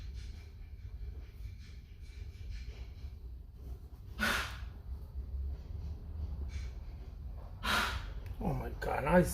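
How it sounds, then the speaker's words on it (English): A dog sneezes twice in sharp, breathy bursts, the second one more distant and followed by a snort, heard indoors over a low steady background hum. "now he's sneezing over there"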